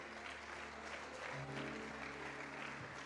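Congregation applause in a church service, a steady crowd clapping that fills the whole stretch at fairly low level, with a low hum and faint organ-like tones underneath.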